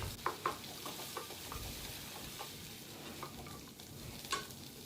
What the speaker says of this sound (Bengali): ভালো করে এটাকে ঝুড়ি ঝুড়ি করে ডিমটাকে ভেজে নেব।